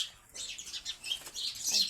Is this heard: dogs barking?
no